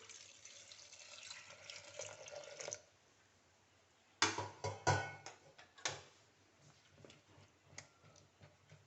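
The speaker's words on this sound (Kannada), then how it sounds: "ಮುಳುಗುವಷ್ಟು ನೀರು ಹಾಕ್ಕೊಳ್ಳೋಣ." Water is poured into a pressure cooker over dal with turmeric in a home kitchen: a soft stream runs for a few seconds, then stops, followed by a series of faint taps and clinks.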